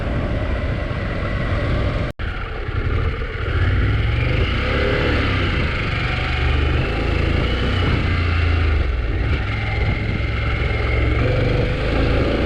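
A Harley-Davidson Pan America motorcycle riding on red dirt produces a steady, loud engine drone under heavy wind rumble for the whole clip, broken only by a brief dropout near the start.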